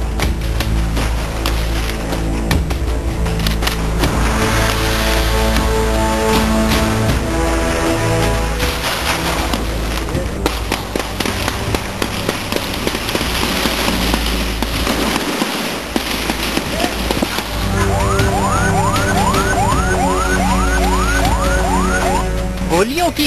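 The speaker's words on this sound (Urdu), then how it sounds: "گولیوں کی گھن گرج اور دستی بم کے یہ دھماکے" Gunfire and hand grenade explosions ring out during gang violence in Lyari, Karachi. Loud, dense bursts of cracks and bangs go on throughout, and a rising and falling siren joins toward the end.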